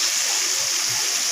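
Water poured into a cooking pan of ridge gourd with dried fish gives a steady, close hiss and splash that lasts about a second and a half without a break.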